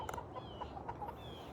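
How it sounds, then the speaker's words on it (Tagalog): A hen clucks softly in short repeated calls after laying eggs, faint and fairly close in a quiet rural yard just after rain, with no talk over it. "May isang manok dito mga kaibigan Nangitlog pa sila."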